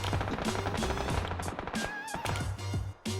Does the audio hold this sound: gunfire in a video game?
yes